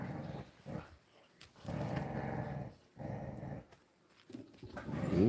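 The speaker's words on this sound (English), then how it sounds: "I hear some growling." A dog growls low and rumbling in several long bursts separated by short pauses, close and fairly loud, with a brief higher whine near the end.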